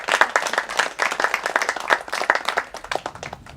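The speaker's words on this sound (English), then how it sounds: "By your applause, please welcome Guy Osh." An audience applauds to welcome a speaker, with dense, steady clapping from many hands at close range, slowly thinning toward the end, with faint voices mixed in.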